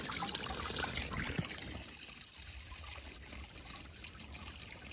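Water trickling from a spring in a forest near Gori, a steady close babbling flow throughout, slightly fuller at the start, with no talking.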